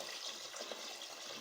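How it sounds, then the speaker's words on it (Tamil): About a liter of water poured into a cooking pot for chicken feet soup, a soft, steady splashing pour heard alone and fairly quiet throughout. "நான் 1 லிட்டர் தண்ணி சேர்த்துக்கிறேன்."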